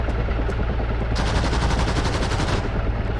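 A 7.62 machine gun on an armoured reconnaissance vehicle fires in DCS World, a loud rapid burst of shots cracking in quick succession over a steady engine rumble, the bursts starting and stopping.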